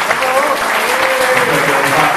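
A gathering at a Popolo della Famiglia meeting greets a guest with loud, sustained applause, a thick continuous clatter of many hands with faint voices underneath.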